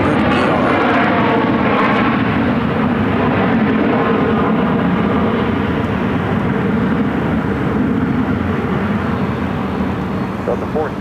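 A Delta Boeing 737-900ER airliner arriving at Phoenix airport makes a steady, loud engine roar that holds throughout and fades slightly near the end.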